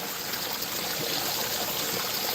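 Water trickles and splashes over a rock in an outdoor garden, a continuous bright hiss of running water close by, with no voices.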